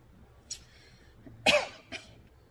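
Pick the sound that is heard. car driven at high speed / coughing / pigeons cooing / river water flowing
coughing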